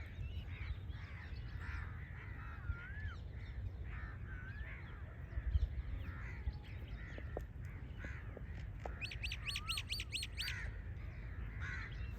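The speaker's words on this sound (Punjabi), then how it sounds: "ਚਹਿਕ ਚਹਾਟ ਬਹੁਤ ਹੈ ਚਿੜੀਆਂ ਦੀ ਕੋਇਲ ਬੋਲਦੀ" Sparrows chirp and a koel gives sharp repeated whistling calls outdoors at moderate distance, with scattered chirps over low background rumble on a farm; no one speaks.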